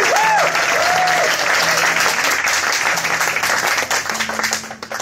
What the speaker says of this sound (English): So give yourselves a massive round of applause.